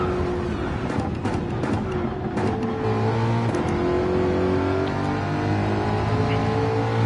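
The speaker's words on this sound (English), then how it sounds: "That is a BMW that he's driving there." BMW race car engine in a racing video game, a loud steady drone that climbs and shifts through revs while following another car closely.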